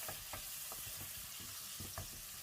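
Spices frying with softened onion in a pan for chicken curry, a steady close sizzle broken by repeated stirring scrapes and taps of a spatula, no talk.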